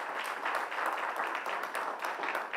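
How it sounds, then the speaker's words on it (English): Audience at a research day opening plenary claps for a presentation, a steady, moderately distant patter of many hands with no clear break, fairly soft overall. "Big round of applause as he makes the presentation."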